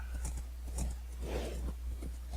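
Horses led on leads in the video game Minecraft make a few soft snorts and hoof clops, spaced irregularly over a steady low background hum.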